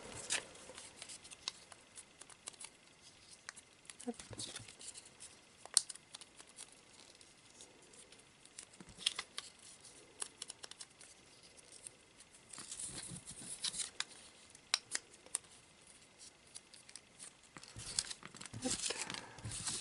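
Paper raffle tickets for a Pokémon-themed tombola are stirred and mixed by hand, giving soft irregular crinkles and rustles, fairly quiet and close, with a few louder crumpling bursts toward the end.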